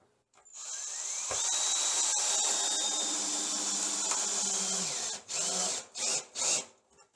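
A power drill drives a screw into a wall stud while a custom floating bathroom vanity is built, whining steadily for about four seconds, then firing a few short bursts as it finishes.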